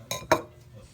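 Two quick clinks of a knife against a plate while slicing a hard-boiled egg cooked in an Instant Pot, close and sharp, then quiet.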